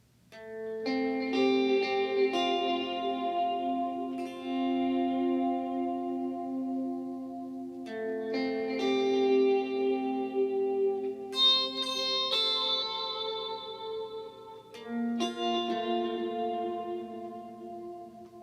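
A quiet lead guitar interlude from a worship song: soft volume-swelled notes fade in and trail off through echo and reverb, forming gentle overlapping phrases with sparse higher accents, played alone without talk.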